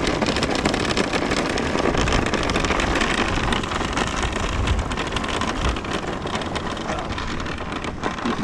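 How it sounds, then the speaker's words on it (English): A kid's wagon fitted with off-road go-kart tires rolls over rough ground, giving a steady, loud, gritty rumble that carries on unbroken from start to finish. "That's actually my son's wagon. It has this off-road go-kart tires on it"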